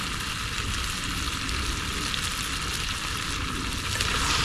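Crab fry sizzles and crackles steadily in a pan over an outdoor fire while chili powder is stirred in, a dense, continuous frying hiss with faint scraping from the mixing, close and without talk.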